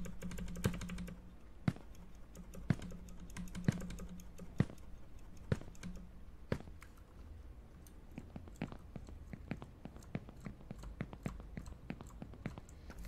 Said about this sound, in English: I've tried, like, everything on the keyboard.